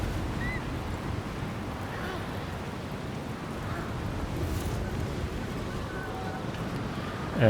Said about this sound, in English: We arrived back outside and we're in this very windy place